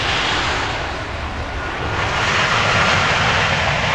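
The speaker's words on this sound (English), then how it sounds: "You got an extra little one there with the Jetstar coming in." A Jetstar airliner's jet engines roar as it comes in to land at snowy alpine Queenstown Airport, a loud, steady, broadband rush that swells slightly toward the end.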